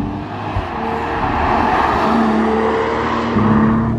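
BMW Z4 M40i road car engine heard close and loud, a sustained throaty rev rising in pitch and swelling near the end, consistent with a downshift blip, with no voices.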